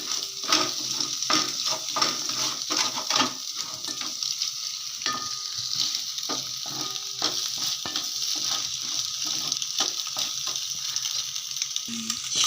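Egg vermicelli (semiya) mixture being stirred in a pan, a steady run of scraping, clinking spoon strokes over a soft continuous sizzle, close and fairly loud with no talking.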